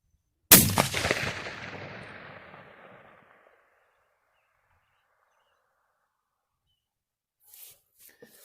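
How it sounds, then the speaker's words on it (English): A single loud rifle shot fired in the field at a bottle cracks close by and rolls away in a long echo that fades over about three seconds, followed by quiet and a few faint small sounds. "I'm going to shoot one at that bottle because I'm not sure where I'm hitting."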